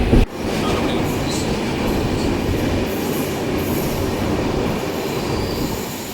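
A train rumbles steadily along the rails between Thiruvananthapuram and Ernakulam, heard from on board, with a continuous low roar, rhythmic clatter and occasional faint high squeals.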